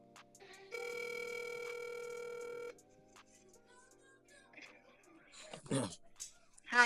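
An outgoing phone call rings with a steady electronic tone for about two seconds, followed by quieter line noise and faint voices.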